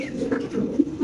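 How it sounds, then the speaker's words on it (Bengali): Pigeons kept for sale coo in soft, low repeated bursts, close by and fairly loud, with several throaty calls overlapping in quick succession and no talk. "আমরা আরেক জোড়া কবুতর ইনশাআল্লাহ দেখাচ্ছি আপনাদের"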